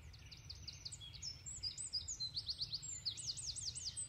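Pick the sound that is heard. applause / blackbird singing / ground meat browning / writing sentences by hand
blackbird singing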